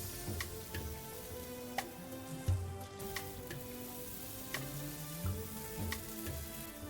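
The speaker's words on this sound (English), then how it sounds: "Keep on flipping the skewers after every 1 minute so that all the sides of the broccoli florets are grilled properly" Broccoli florets on skewers sizzle quietly while grilling for tandoori broccoli tikka, a steady low fry with scattered faint ticks and pops and no voices.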